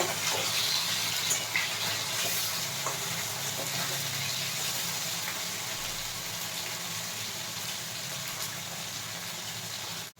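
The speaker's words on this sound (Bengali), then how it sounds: "এই মাছগুলো এক পিট হয়ে গেছে আবার আরেক পিট উল্টে দেবো" Small mourala fish fry in oil in a pan, a steady close sizzle with occasional light crackles that continues unbroken for about ten seconds, then cuts off abruptly.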